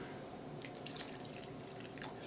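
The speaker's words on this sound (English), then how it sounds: "I'm going to take a little bit more of this water I got in this can." Water poured from a can into a pot of thick elk chili, soft splashing and dripping in a few short bursts, close and fairly quiet.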